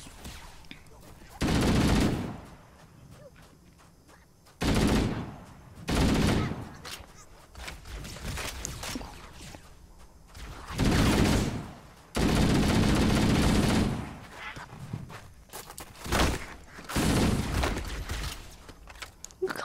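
Gunfire in Halo: Combat Evolved comes in several loud bursts scattered through the stretch, with quieter gaps between volleys and some faint movement sounds.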